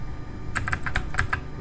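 Rapid keystrokes on a computer keyboard while entering commands into a network switch terminal: about eight crisp, close clicks in a quick, uneven burst, with no talking.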